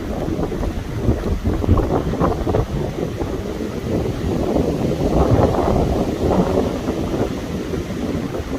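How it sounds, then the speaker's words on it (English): Strong wind gusting on the Appalachian Trail, a loud continuous roar buffeting the microphone and swelling and easing over several seconds, with no voices. "Lots of wind."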